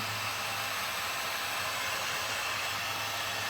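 A hair dryer blows continuously to dry a painted craft tray, a steady close whooshing rush with a low hum and no breaks.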